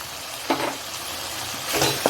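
Ginger, garlic and onion fry in oil with turmeric and coriander powder, giving a constant close sizzle punctuated by two louder stirring scrapes of a spoon in the pan.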